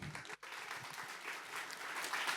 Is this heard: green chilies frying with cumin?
no